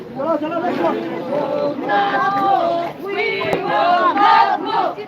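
Student protesters in Washington, D.C. chant a repeated slogan in unison, a loud, close mass of voices rising and falling in rhythmic phrases over crowd noise.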